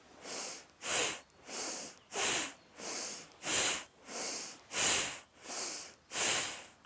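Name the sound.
Bhastrika yoga breath, rapid breathing in and out through the nose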